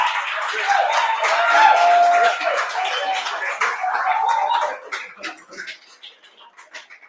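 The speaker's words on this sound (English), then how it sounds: "give him a round of applause as he heads off stage here" Applause from an event crowd at an awards gathering as a guest leaves the stage, a broad wash of clapping that builds and then thins into scattered claps, with voices talking underneath.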